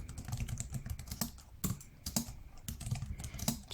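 Fingers typing on a computer keyboard with an enter key press: quick, uneven clusters of sharp close-up key clicks and a few heavier taps, with no talking.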